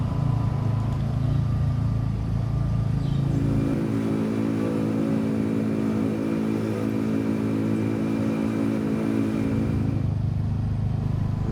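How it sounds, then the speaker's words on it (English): Steady motorbike engine drone while riding near Hua Hin, Thailand, close and loud, holding an even pitch with a slight shift in tone midway; no voices. "We will take a ride here on the motorbike first"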